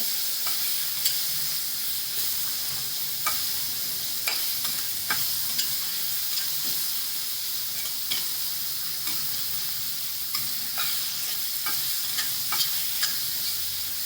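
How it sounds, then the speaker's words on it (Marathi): Chopped onion sautéing in a pan for a spicy fenugreek jhunka, with a steady close sizzle broken by frequent scrapes and clinks of a spoon stirring throughout. "कांदा चिरलेला तो टाकायचा तो पण आता छान परतून घ्यायचा"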